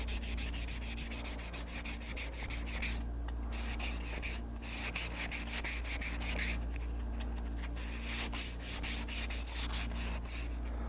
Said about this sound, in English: what I usually do is just take a piece of sandpaper and just kind of blend that over